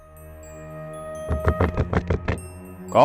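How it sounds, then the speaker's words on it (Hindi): Knocking on a door in a drama scene: a quick run of about seven firm knocks, fairly loud and close, ending in a short, brighter clatter. "दरवाजा खटखटाने की तमीज नहीं है?"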